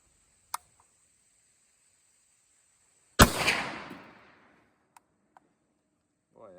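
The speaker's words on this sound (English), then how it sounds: "Boy, that does make that metal ding" A Remington 742 .30-06 rifle being handled gives one sharp, close metallic ding that rings and fades over about a second, with a few faint clicks before and after.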